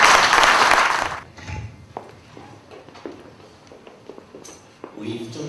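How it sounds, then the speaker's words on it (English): An audience at an NPP party gathering bursts into loud, dense applause that fades after about a second, followed by scattered claps, shuffling and murmured voices. "Shall we clap for Mr."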